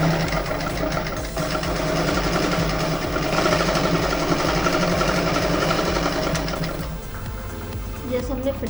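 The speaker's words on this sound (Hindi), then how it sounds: "उसी तरह सिलाई डालेंगे" A sewing machine stitches a collar neck kurti, a fast continuous close mechanical rattle that runs steadily before easing near the end, with no voices over it.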